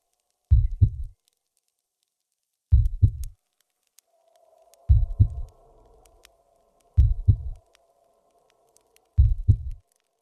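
Slow, deep heartbeat thumping in regular double beats, five pulses spaced about two seconds apart, with a faint low hum drifting in between them and no voices.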